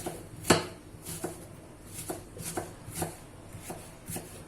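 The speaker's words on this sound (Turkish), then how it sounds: "Tavam orada ısınırken soğanlarımı doğruyorum ince ince." Onions finely chopped on a board with a knife, a steady series of crisp, close knocks at an even pace, one sharper hit near the start, with no voices.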